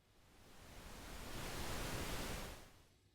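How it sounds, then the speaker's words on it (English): Pink noise test signal routed through a Digico S21 mixing console, a steady broadband hiss that swells gradually, holds for about a second, then fades near the end; nothing else is audible. "there you go, a little bit of pink noise"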